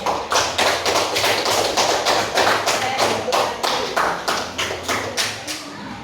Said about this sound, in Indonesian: Tepuk tangan buat kelompok banteng.